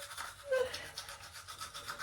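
Teeth being brushed with a toothbrush and toothpaste, a steady wet scrubbing with rhythmic back-and-forth strokes, close and soft.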